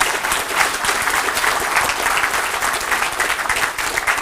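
A conference audience at a Tech·Ed Australia session claps at the end of a talk, dense, even applause filling the room without a break for several seconds.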